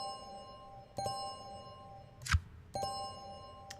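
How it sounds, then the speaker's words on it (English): Bell chimes in the video game Occult Chronicles: two clear sustained tones struck about two seconds apart, each ringing out with long harmonic decay, and a brief sharp swish between them, with no talk. "You enter a trance and then hear the bell ring."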